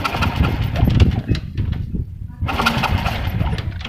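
A motorcycle engine that had lost compression is kick-started repeatedly, giving a loud, close, rough mechanical churning with a brief lull midway.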